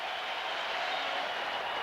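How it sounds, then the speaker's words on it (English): A big baseball stadium crowd at an MLB playoff game between the Cubs and Braves rises with a broad, steady roar and applause, even and continuous, with no speech. "Crowd rises to its feet."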